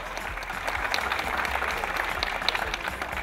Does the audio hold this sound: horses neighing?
no